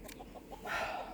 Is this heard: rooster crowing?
yes